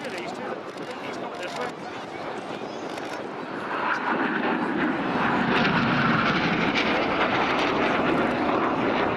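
RAF Red Arrows jets in a flying display at an airshow roar overhead, a broad distant rumble that swells and grows louder midway, under a commentator's voice.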